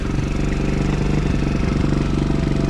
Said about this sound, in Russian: Мопед работает как надо. Четенько прогрелся уже.